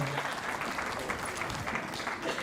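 Audience applause at a live psychic medium stage show, a steady dense wash of clapping from a theatre crowd filling the whole stretch at even loudness.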